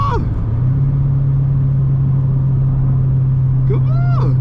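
A car engine holds a loud, steady drone that rises in pitch once and then sustains close by, with a voice speaking briefly near the start and end.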